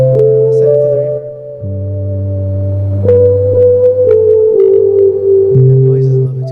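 A lofi ambient synth, high-passed and sent to reverb, plays slow sustained chords and held tones. The notes shift every second or so, with a soft washy tail behind them.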